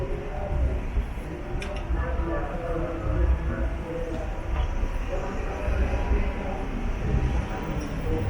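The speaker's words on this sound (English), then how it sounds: "Monorail." A monorail train in a Kobe street setting rolls past with a steady low rumble and broad rushing noise, fairly close and sustained throughout, with faint squeaks on top.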